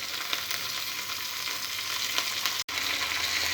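Grated ginger, green chillies and curry leaves fry in hot oil, a dense, even crackling sizzle heard close and fairly loud throughout, broken only by one very brief dropout near the end, with no voices.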